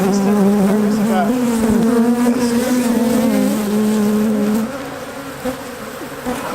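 Bees buzzing densely and loudly at an open beehive during hive maintenance, a continuous wavering drone with shifting pitch close to the listener.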